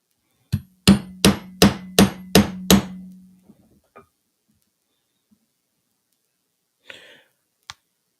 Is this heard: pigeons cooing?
no